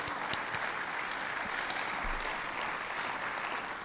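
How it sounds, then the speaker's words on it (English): A breakfast audience at a mayor's breakfast event gives sponsors a sustained round of applause, an even, dense clapping wash heard at moderate distance and low level from start to finish. "Can we give them a big round of applause for their support?"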